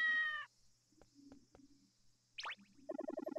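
A cat in the Yo-Kai Watch 2 video game gives a short meow, then after a quiet gap of faint taps a rising cry and a quick run of rhythmic meowing calls, all fairly soft.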